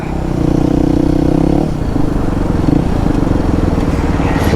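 A Kawasaki KLX 230 off-road motorcycle, recently back from engine repair, rides with a loud, close, steady engine drone. The pitch drops partway through, and light rattling and clatter run underneath.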